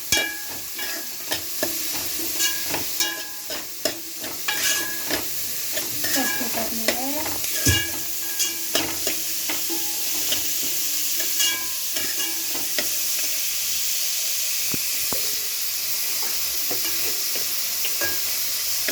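Carrot, capsicum and other vegetables for veg fried rice are stirred in a hot pan, a steady sizzle broken by repeated scraping and clanking strokes of the spoon, close and fairly loud with no talking.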